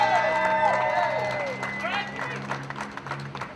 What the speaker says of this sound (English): One last round of applause for our next mayor, Mr. Pete Dinelli